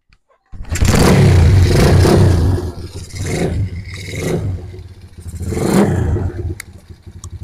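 A motorcycle fitted with a capacitor fires up and runs with its headlight switched on, the engine surging in several loud, close revving swells before settling to a steadier idle.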